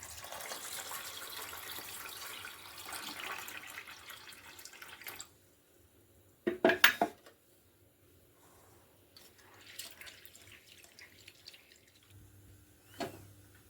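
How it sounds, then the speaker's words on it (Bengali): Chana dal and arhar dal being washed in water, running tap water and swishing splashes at first, then silence broken by a short burst of clattering and later quieter trickles and sloshes. "আগে এগুলোকে ডালগুলোকে একটু ভালো করে ধুয়ে নিয়ে সেদ্ধ বসিয়ে দেবো প্রেশারে"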